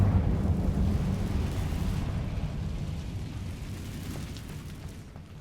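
An Incendio fire spell is cast in Hogwarts Legacy: a deep, rumbling whoosh like a burst of flame that slowly fades over several seconds, with no talking.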